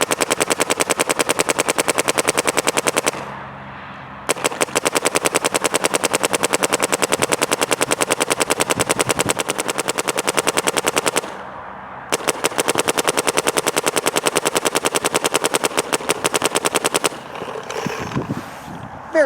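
A MacDev Prime XTS paintball marker fires on an outdoor field in long, rapid strings of sharp, loud pops. The shots come in three extended bursts separated by two short silent pauses, ending in quieter scattered noise.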